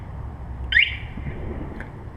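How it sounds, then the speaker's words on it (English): A 2018 Brozz 250 motorcycle's alarm sounds once, a short, sharp electronic chirp that fades into a faint echo, followed by a second quieter beep against low background noise. "the alarm just went off"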